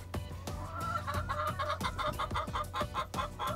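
Chickens in a backyard coop cluck and squawk repeatedly in short, uneven bursts, fairly close and clear, with a busy rhythm of overlapping calls.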